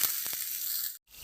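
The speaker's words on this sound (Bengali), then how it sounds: "গ্যাসের ফ্লেমটা একটু কমিয়ে দিয়ে মশলাটাকে কষিয়ে নেব।" Spice paste being fried down in a pan over a low gas flame, giving a steady bright hiss with a couple of faint ticks and a brief dropout near the end.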